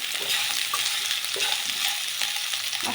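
Mixed vegetables with salt frying in a pan for sambar, a loud close sizzle with repeated stirring scrapes throughout.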